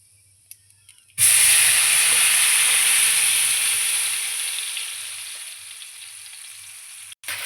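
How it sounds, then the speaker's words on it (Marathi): Ground spice paste hits hot oil with cumin for a cashew paneer curry, bursting into a loud, sudden sizzle after a second of near silence, then a steady hiss that slowly fades before a brief dropout near the end. "तेल सुटेपर्यंत आपल्याला आपल्या मसाल्याला भाजून घेऊयात"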